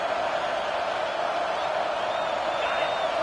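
Home crowd at a college football stadium roars steadily during a third-down defensive stand, a dense, sustained wash of distant cheering and whooping that fills the whole moment without letup.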